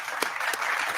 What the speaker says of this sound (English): let's give Steve a round of applause for using his CNC.